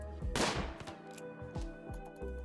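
Gunfire in the video game RimWorld crackles in several sharp shots: one loud burst early, then a few lighter reports spaced out over a steady background hum.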